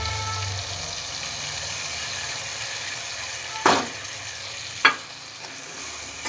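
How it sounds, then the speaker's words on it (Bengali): Spiced paste sizzles steadily in a pan with fried capsicum and tomato, a continuous close hiss broken by two sharp stirring scrapes near the end, with no voices. "এইবার এর সাথে ভালো করে মশলাটাকে কষিয়ে নেব টমেটো আর ক্যাপসিকামের সাথে"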